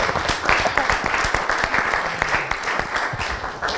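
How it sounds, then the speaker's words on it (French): Audience applause fills a TV studio: a dense, steady clapping from many hands, loud and close, with cheering voices mixed in throughout. "On peut l'applaudir, hein?"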